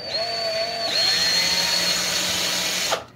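A handheld power tool whirs loudly and continuously while apples are prepared for a Thanksgiving apple pie, its pitch shifting slightly early on before it stops abruptly at the end.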